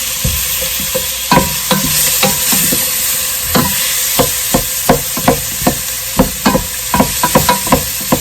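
Onions sautéing in a pan while a kitchen tool breaks them up, a steady sizzle under a run of sharp tapping and scraping knocks that come faster toward the end, close and loud.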